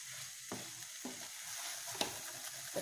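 Okra and egg frying in a pan with a steady broadband sizzle, broken by several sharp scrapes and clicks of a spatula stirring at roughly half-second intervals, close and moderately loud with no voices.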